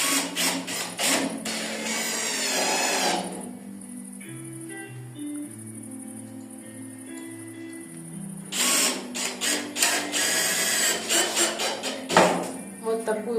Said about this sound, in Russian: Вот наш шуруповерт теперь в деле.